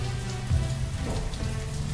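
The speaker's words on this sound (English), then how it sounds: "Why is it raining in the winter?" Rain falling in the video game Banished, a steady, dense hiss of drops on the ground, even and unbroken throughout.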